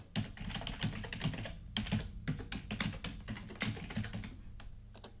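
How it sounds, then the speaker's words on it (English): Keys clatter in steady bursts as someone types an administrator account name and password on a Windows 10 computer joining a domain, close and clear with brief pauses between runs of keystrokes. "I'm typing the administrator account and the password on the server."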